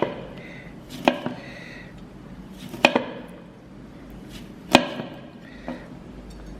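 A knife cuts lemon into slices on a cutting board, with a few crisp, close taps about every two seconds and some softer knocks in between over a quiet room.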